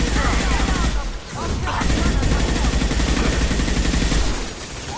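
Sustained video-game gunfire from Mass Effect 2 combat, dense automatic bursts rattling almost continuously with a brief lull, loud and close.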